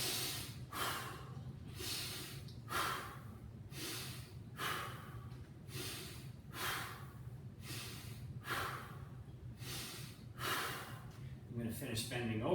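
Steady, rhythmic breathing during a workout posture exercise, with regular audible inhales and exhales repeating about every second, fairly faint and close.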